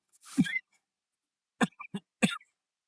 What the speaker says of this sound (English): sorry about that, I had to cough